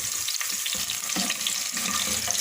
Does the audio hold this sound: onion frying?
yes